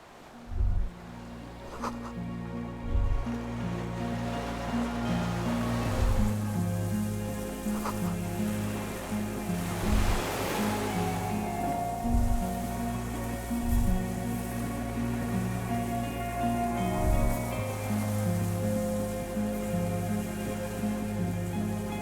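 Sea waves wash along the shore in the video game Disco Elysium, a soft broad surge swelling and fading beneath a steady, low ambient music bed with slow repeating tones.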